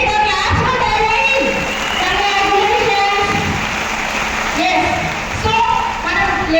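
Audience at a large ladies' meeting in Telangana clapping: dense, loud applause from a big crowd that swells and dips, with cheering and voices mixed in.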